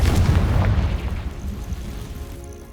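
A Confringo spell explosion in Hogwarts Legacy makes a deep, loud boom at the start, then rumbles and fades slowly over a couple of seconds.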